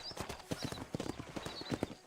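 Galloping horse hooves from the Red Dead Redemption video game drum in a fast, repeating clip-clop rhythm, loud and close, with a faint snort and light background noise.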